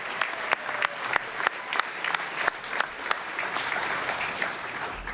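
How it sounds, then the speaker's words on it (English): Applause from an audience at an athletes-of-the-year sports awards celebration, a steady wash of clapping with sharp individual claps standing out, lasting throughout at moderate level. "Let's give a round of applause to Jayciana Giroux-Holt."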